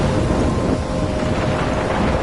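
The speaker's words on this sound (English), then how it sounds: "I'm trapped in a storm?" Continuous heavy rain and rolling thunder from a Life is Strange video game storm, a dense, steady roar at constant loudness with no voices.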